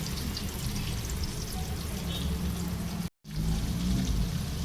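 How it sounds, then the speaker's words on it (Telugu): Minced-meat keema balls frying in a pan with curry leaves, a dense steady sizzle that cuts out for a moment and then resumes at the same level. "కరివేపాకు వేసుకున్నాక ముట్టిలు వేసుకోవాలి మెల్లిగా వీటిని ఫ్రై చేసుకోవాలి"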